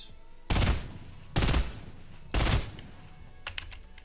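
FAMAS rifle fire in a video game, with three short, sharp bursts spaced about a second apart, loud and close, followed by faint clicking.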